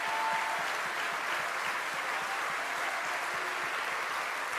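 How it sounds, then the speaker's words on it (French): An audience at an ecologist party congress in a hall applauds steadily, a sustained, moderately distant patter of many hands clapping without pause. "je veux aussi qu'on applaudisse de manière aussi forte tous nos élus d'opposition"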